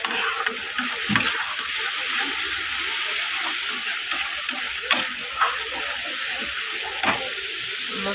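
A paste of ginger, garlic, cumin and chili sizzles in a pan, a steady close hiss broken by frequent scraping stirs and soft clicks, with no voices.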